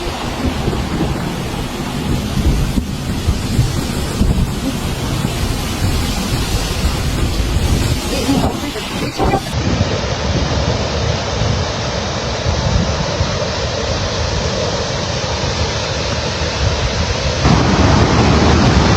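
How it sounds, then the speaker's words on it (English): Flash floodwater in Ruidoso, New Mexico rushing over a road, a loud, continuous roaring torrent with broadband churning noise that shifts in tone partway through. "It's insane how much water that is."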